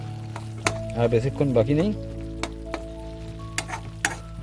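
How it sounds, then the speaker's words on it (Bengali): Spices are fried for a fish curry, cooked outdoors in the hills at Hundru Falls, giving a steady sizzle with occasional clinks of a utensil. A voice talks over it and tonal hums run underneath. "মশলা কষানো এই চলছে।"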